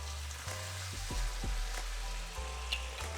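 Chicken wings sizzle and fry in a pan just after Marsala wine is poured in, a steady crackling hiss with occasional pops and low bubbling thumps, fairly quiet and continuous.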